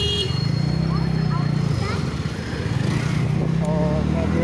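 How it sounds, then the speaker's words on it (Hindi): A TVS Ntorq 125 Race Edition scooter being ridden through a crowded street near a school function, with a steady engine drone throughout, a rider talking over it and crowd noise around. "अभी बिल्कुल फ्री में हूँ और गाड़ी चलाना में काफ़ी मस्त है, बिल्कुल फ्री इंजन है"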